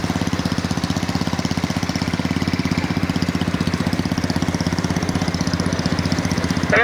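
A motorbike engine at a bike race in Puthiyamputhur, Thoothukudi district, throbs loud and close in a fast, even pulse that never lets up, with no voices.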